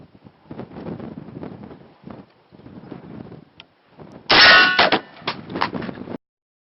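A shotgun firing an exploding slug at a steel I-beam outdoors gives a sudden loud metallic clang with ringing tail, followed by a few more clanks, after several seconds of wind and faint rustling.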